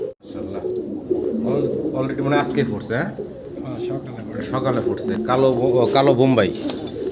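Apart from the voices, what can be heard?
black Bombay pigeons cooing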